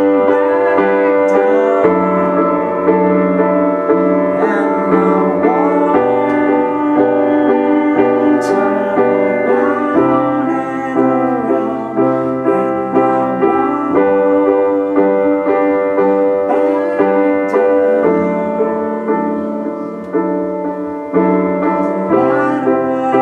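Solo piano plays the end chorus of a song in steady eighth-note rhythm, clear sustained chords and melody ringing continuously and loudly throughout.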